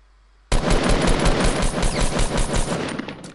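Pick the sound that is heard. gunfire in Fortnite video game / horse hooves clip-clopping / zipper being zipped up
gunfire in Fortnite video game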